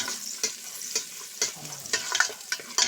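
Garlic and onion sautéing in a pan for chicken adobo, a bright continuous sizzle punctuated by quick scrapes and clinks of a utensil stirring, close up and alone without talk.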